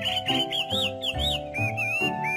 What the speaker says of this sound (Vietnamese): Con chim.